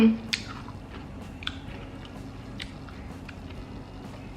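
Someone eats a Blizzard ice cream with buttered milk toast up close, giving soft squishy chewing and a few sharp bites against a quiet background.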